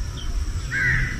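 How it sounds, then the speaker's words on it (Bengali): Crows caw outdoors, with a short call followed by a longer harsh caw, moderately near over a low background rumble, with no speech. "এত কাক ডাকতেছে কে"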